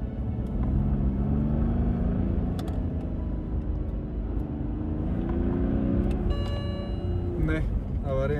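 A BMW car in emergency limp mode pulls away from a traffic light as the driver presses the gas. A heavy, continuous low engine rumble is heard from inside, with a brief tonal chime near the end.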